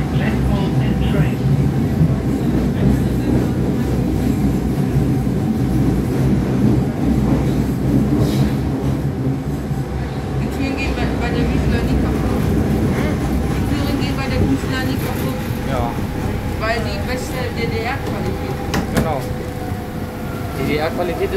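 A Berlin U2 underground train of East German-built type Gl/1E, car 1087-1, runs between Bismarckstraße and Pankow, heard from inside as a loud, constant rolling rumble with wheel clatter and motor whine over the whole ride.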